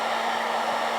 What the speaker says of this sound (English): I put the hairdryer right behind them so that the hot air isn't blowing on my fingers